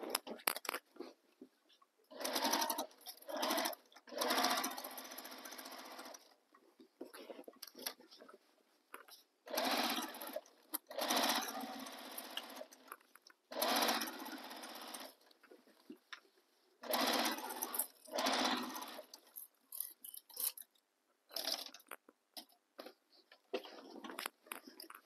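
A sewing machine stitches around the seam of a fabric tote bag in repeated bursts of a few seconds each, with short pauses between runs, close and clear.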